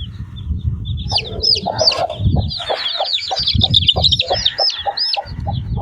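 A young chicken peeps rapidly and repeatedly in high, insistent chirps while being held for an F1 vaccine, close and clear, with soft handling bumps and rustles beneath.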